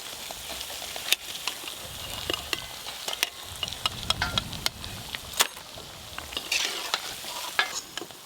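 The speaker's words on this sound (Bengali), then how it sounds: "সব চপ ভাজা হয়ে গেল।" Potato chops and banana-flower chops frying in oil give a soft, continuous sizzle, crackling and popping, sounding close by with no voices.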